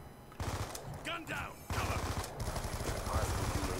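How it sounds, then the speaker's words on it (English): Sustained suppressing gunfire in Black Ops 2, a dense rattling fusillade that runs almost without pause, loud and close, with a brief voice-like warble near the start. "Suppressing fire! That's what teammate's doing right now."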